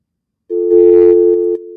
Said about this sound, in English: I'm getting a dial tone.